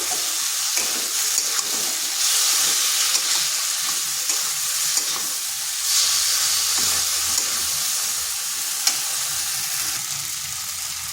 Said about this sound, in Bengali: এরপর ভালোভাবে মশলার সাথে কষে নিচ্ছি